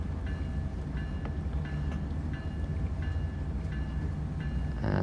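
Caltrain express train in Train Sim World 2 pulling into a station, a steady loud rumble of wheels and running gear with faint periodic clicks and a thin tonal whine throughout.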